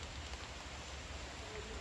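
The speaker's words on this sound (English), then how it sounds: "Starting to rain a little bit." Light rain falls in a Costa Rican rainforest at Manuel Antonio, a steady soft hiss of drops with no distinct individual hits.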